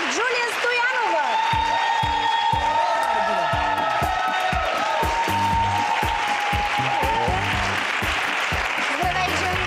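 Audience applause for Miss Plovdiv at a Miss Bulgaria 2013 beauty pageant: steady dense clapping mixed with crowd cheering and whoops throughout, with music and announcer voices over it.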